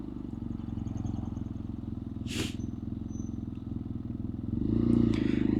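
A BMW F800R parallel-twin motorcycle being ridden, with a steady engine drone running throughout and swelling louder near the end, plus a brief scrape or clatter midway.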